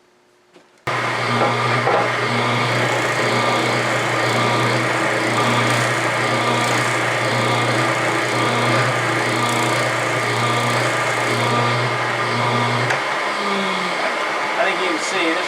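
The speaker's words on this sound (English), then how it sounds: "It's also helped by my Camvac dust extractor that I have gotten a few months ago that also does a better job of pulling the dust away." A Ridgid sander runs with a Camvac dust extractor attached, starting abruptly and holding a loud, steady motor whine and roar for about twelve seconds before winding down near the end.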